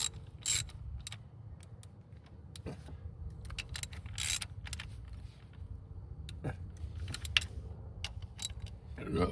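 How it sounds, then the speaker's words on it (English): A ratchet tightening a bolt under the hood of a Lexus IS250 during a spark plug job, with irregular metallic clicking bursts and clinks, close and moderately loud. "Put that bolt in there. All right. Now, tighten it down."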